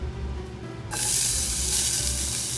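Onions dropped into a hot pan of browned mushrooms burst into a loud, close sizzle that holds steady after a quieter lead-in.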